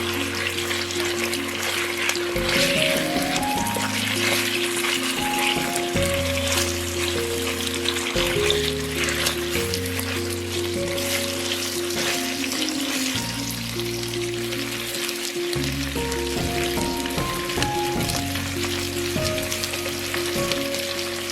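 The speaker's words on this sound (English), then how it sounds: "Add the beef chunks and sear them until nicely browned on all sides." Chunks of beef flank sear in a hot pan with a steady, dense sizzle, broken by scraping stirs and shifting tones as the meat is turned, and no one speaks.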